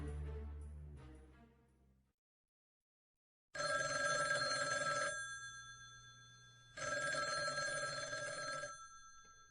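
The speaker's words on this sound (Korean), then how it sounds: "주일대사 이후락의 동경 숙소로 전화를 건 사람은 김종필 국무총리였다" An old-style telephone bell rings in two long bursts separated by a pause, loud and close, with a brief musical passage fading out before the first ring.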